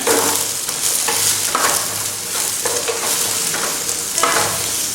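Ridge gourd sautéing in a pan for chutney, a loud close sizzle with rhythmic scraping strokes of stirring repeating every second or so.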